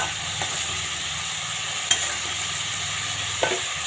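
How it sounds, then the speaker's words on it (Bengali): Papaya frying in a pan, an even hissing sizzle with a couple of sharp utensil taps, heard close and without any speech. "তো চলো আমি পেঁপেটা ভাজি"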